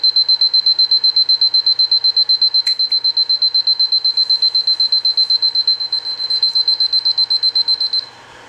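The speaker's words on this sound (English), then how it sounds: "Oh, it's my alarm." A personal alarm rings loudly and close by, a rapid, steady series of high beeps pulsing for several seconds before cutting off abruptly.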